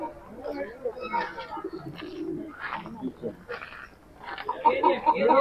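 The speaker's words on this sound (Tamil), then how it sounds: "புறாங்க அது" Pigeons coo in soft, repeated bursts at a crowded outdoor tourist spot in Pudukkottai, mixed in with people talking nearby.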